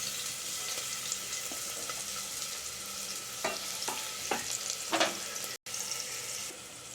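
Onions sauteing in hot oil inside a pressure cooker over low heat, a soft, fairly quiet sizzle broken by several spoon scrapes and stirs near the middle, with a brief dropout near the end.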